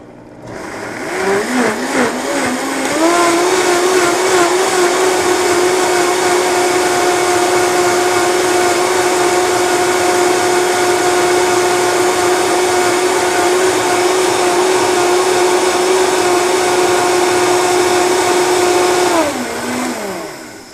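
A kitchen blender spins up, holds a loud steady whine for about sixteen seconds while making pasta from scratch, then winds down and stops, with no talking over it.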